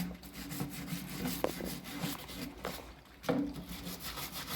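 Ryobi drill parts are scrubbed in Dawn dish soap, giving repeated close rubbing and brushing strokes in an uneven rhythm with a few sharper scrapes.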